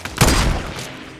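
A single burst of gunfire from the Fortnite battle game, a sharp loud shot followed by a quick decaying echo, heard alone with no talk.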